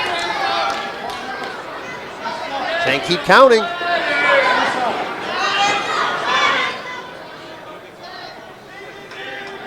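A Waterbury crowd at a Northeast Wrestling event roars and chants as a wrestler rallies them from ringside, a busy wall of cheering and shouts beneath close commentary, with a sharp burst of noise midway.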